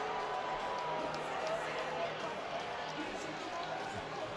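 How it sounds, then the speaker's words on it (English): Hockey arena crowd at a Jacksonville Icemen vs South Carolina Stingrays game, a steady, dense roar of many voices reacting to a no-penalty call, sustained and fairly distant throughout with no clear breaks. "They're calling no penalty, and the crowd can't believe it"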